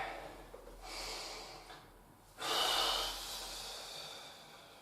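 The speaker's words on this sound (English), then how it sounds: "2 more, breathe in. And exhale." A person breathing during a gentle stretching exercise: a soft, airy inhale followed by a louder, longer exhale through the nose or mouth, close and quiet with no talking.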